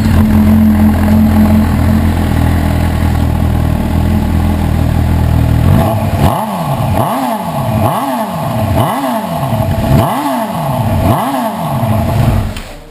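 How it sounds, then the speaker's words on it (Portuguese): Honda CB 1000R motorcycle with an Atalla megaphone exhaust and catalytic converter, heard at a steady loud idle that shifts at about six seconds into a string of six rhythmic throttle blips, each rev rising and falling close by. "Vamos ligar para ver o que vocês acham do barulho"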